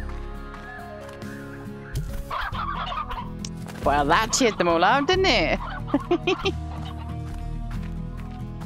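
Video game hens in Slime Rancher cluck and squawk in a busy burst of bird calls that rises in the middle and then tapers, with someone talking over parts of it.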